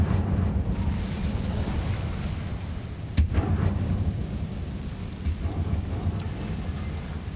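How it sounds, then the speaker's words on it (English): Incendio fire spell from Hogwarts Legacy burning away spider webs, a steady roaring, crackling rumble of flame that holds loud throughout, with a sharp burst near the middle. "Burn all the spider webs away."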